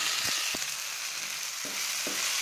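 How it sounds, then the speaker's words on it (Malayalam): Chopped tomatoes sautéing in a pan for shakshouka give a steady, close sizzle and frying hiss, with a few soft stirring knocks against the pan and no voices. "തക്കാളിയും കൂടെ ചേർത്ത് ഒരു 3-4 മിനിറ്റ് നന്നായിട്ട് വഴറ്റിയെടുക്കാം."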